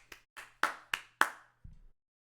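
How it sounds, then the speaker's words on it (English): A few sharp, separate hand claps, about five in quick succession, close and sparse, followed by a short low thump, on a basketball talk show. "Hey, give a round of applause for B-Dot."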